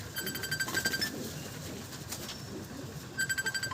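Abluk Madrasi pigeons, a setting pair in a loft in Nadia, coo in low, soft rumbles while thin high chirps from other birds come and go throughout.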